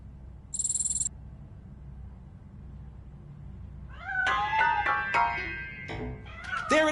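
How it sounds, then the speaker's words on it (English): A cat meows in the game Robocop Rogue City, several loud, close wavering cries in the second half after a short high beep and a low background hum. "That cat must be hiding inside."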